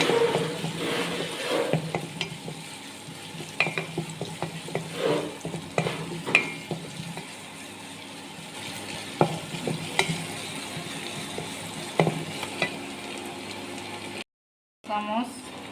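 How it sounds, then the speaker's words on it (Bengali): Onions fry in a pan for tomato chutney, giving a soft steady sizzle with occasional stirring scrapes and light clinks, fairly quiet and close, before a brief silence near the end. "পেঁয়াজগুলো আমি লাল করে ভেজে নেব।"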